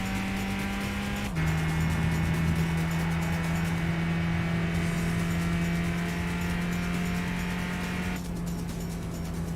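Mazda MX-5 engine droning steadily at a constant pitch in Gran Turismo, a loud sustained hum with a brief gear-shift dip near the start and faint tire noise underneath.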